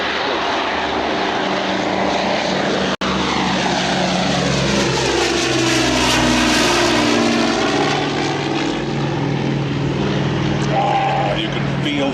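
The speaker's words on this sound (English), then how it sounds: "You can feel the vibrations right through your bones as those four great Pratt & Whitney engines roar that airplane up into the sky." Four Pratt & Whitney propeller engines roar loudly and steadily as a large four-engine aircraft takes off at an airshow, with a rising and falling drone that fills the scene and a brief dropout near the start.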